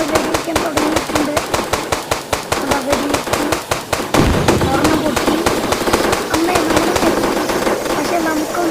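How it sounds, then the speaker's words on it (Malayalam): Rapid gunfire or firecracker bursts in the video game Indian Bikes Driving 3D, a fast run of sharp cracks followed by a louder, denser barrage, with a voice talking over it. "നമ്മൾ വെടിവെക്കാൻ തുടങ്ങിയിട്ടുണ്ട്"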